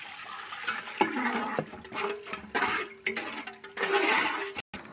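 Squeezed tamarind water poured into a pan of grape pickle, a continuous splashing gush that surges and eases in waves for several seconds before stopping abruptly, close and fairly loud.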